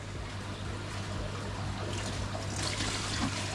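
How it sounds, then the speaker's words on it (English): Water streams and trickles steadily into a new aquarium tank, a close, continuous splashing pour heard alone. "And the water is going in."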